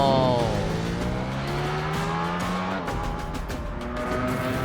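A Lucid Air Sapphire, Bugatti Chiron and Tesla Plaid launch in a drag race, loud rising whines and engine tones climbing steadily in pitch as they accelerate, with no talking over it.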